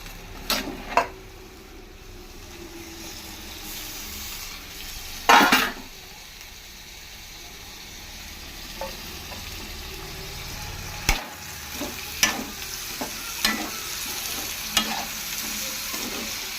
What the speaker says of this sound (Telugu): కందిపప్పు తీసుకొని సిమ్లో పెట్టుకొని ఫస్ట్ ఫ్రై చేసుకోవాలి పొటాటో వేగిన టమాటా వేద్దాం